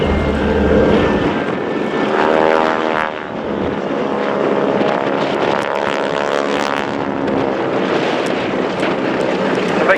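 A Stearman biplane carrying wingwalkers passes at an airshow, its propeller engine droning loud and close, with a pitch shift as it goes by and some wind buffeting.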